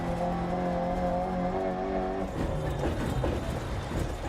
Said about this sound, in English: That's a fun little car.